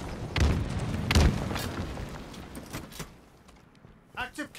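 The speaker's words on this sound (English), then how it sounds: "That's a pitiful grenade throw." A grenade explodes in Halo Infinite, a muffled boom followed by a second thump amid busy game effects, with a player's voice talking over the action.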